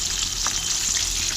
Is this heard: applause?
no